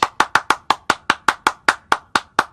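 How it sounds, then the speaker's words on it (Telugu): Hands clap in a crisp, evenly spaced run of about a dozen sharp claps at a brisk steady pace, close and alone with no voices. "చప్పట్లు కొట్టండి"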